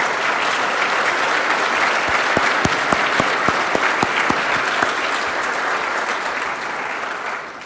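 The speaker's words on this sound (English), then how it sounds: "Maybe a round of applause." Sustained applause fills a conference hall at a defence industry event, a thick continuous roar of clapping with several sharp, close single claps popping out near the middle before it slowly fades.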